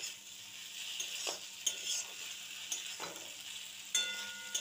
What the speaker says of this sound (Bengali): এবার আমি এটাকে কিছুক্ষণ নাড়তে থাকব।